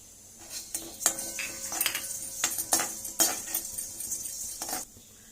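Dry ginger and black pepper dry-roasted in a pan, with a spoon scraping and clinking against the metal in irregular bursts, close and moderately loud, ending with a brief quiet.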